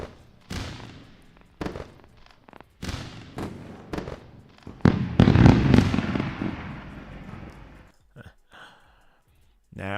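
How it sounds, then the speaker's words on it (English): Fireworks sound effect played as a celebration during a live futures trading stream: a series of sharp bangs and crackling bursts, with a dense, loud cluster in the middle fading to scattered pops. "Let's go with the fireworks, guys."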